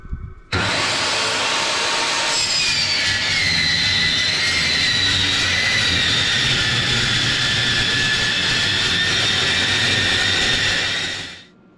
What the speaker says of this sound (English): I got a 2x2 piece of steel I wanna cut.